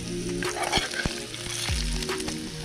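Paneer fries in a pan outdoors with a close, busy sizzle and crackle, along with several sharp clinks of a utensil against the pan and no voices.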